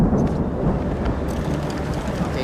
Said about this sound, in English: An approaching downpour threatens to grow into a lightning storm.